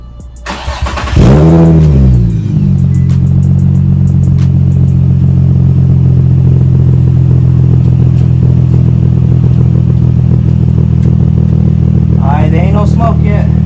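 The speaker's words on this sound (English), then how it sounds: "we're gonna come back and start the car." A high-mileage Infiniti G35 sedan engine cranks and catches, then settles into a loud, steady idle that runs on, with a brief voice near the end.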